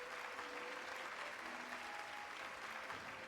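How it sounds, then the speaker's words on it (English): Crowd applause from the colosseum arena in the Hollow Knight video game, a steady dense clapping and cheering that holds evenly throughout at moderate level with no speech. "Hear how the crowd adores you."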